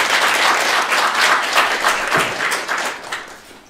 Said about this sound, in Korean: 뜨거운 박수로 환영해 주시면